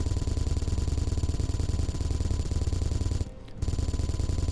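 Rapid automatic gunfire from the video game Space Engineers, a dense continuous rattle that fills the clip, with a brief dropout near the end before the firing resumes.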